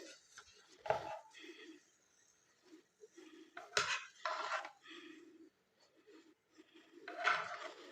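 Sandwiches lifted out of a pan and set into a serving dish, with intermittent metallic scrapes and clinks of utensil against pan and plate, close and moderately loud, separated by quiet pauses.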